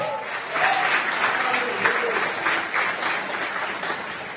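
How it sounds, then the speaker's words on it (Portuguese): A church congregation applauds steadily during a praise and worship service, a dense, even wash of clapping lasting several seconds with a voice faintly beneath it. "Você pode aplaudir o nome do Senhor"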